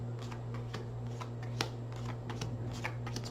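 Tarot cards being shuffled by hand, a run of quick, close papery riffles and slaps over a steady low electrical hum, quiet and without talk.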